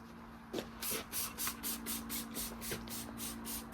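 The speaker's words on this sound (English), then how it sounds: "So I'll spray it on and see what we're dealing with" Cleaner is sprayed heavily onto the bonnet of a 1999 VS V8 ute in a run of about eight short, loud hissing bursts at a steady rhythm, close to the listener.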